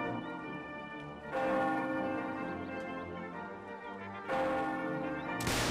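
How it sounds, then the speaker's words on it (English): Church bell tolling in the Mount & Blade North & South mod battle game, two or three heavy strikes a few seconds apart, each ringing on with a long humming decay. "The bell's tolling for him as well."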